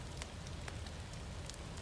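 Light rain beginning to fall outdoors at a brush-burning site, a soft steady patter with scattered faint drop ticks over a low continuous rumble, no voices.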